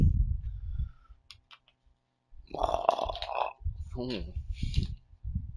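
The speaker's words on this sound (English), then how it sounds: "Burping in the streams." A single low burp near the start, followed by a quiet gap and then a person talking over faint clicks and background game sounds.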